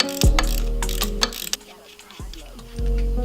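Ratcheting clicks from a wrench loosening the clamp on a Subaru STI VF43 turbocharger, close rapid pawl clicks in short bursts separated by pauses, over a low steady hum.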